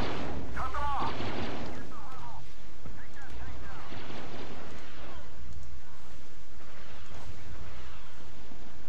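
Turret gunfire in the Star Wars Battlefront 2 video game on an icy harbor map: continuous heavy booming blasts and rumbling fire throughout, loud and dense, with a voice talking over it.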